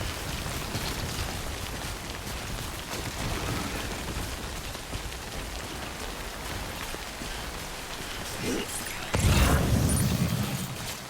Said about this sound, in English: This would be handy if the rain ever stopped.